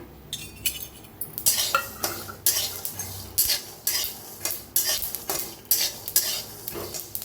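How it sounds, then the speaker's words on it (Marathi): Peanuts and sesame seeds dry-roasting in a kadhai, stirred with a spoon that scrapes and clinks against the metal in a steady rhythm of bright, close strokes, with a light rattle of seeds between them and no talking. "शेंगदाण तीळ दोन्ही संघ भाजून घेऊया"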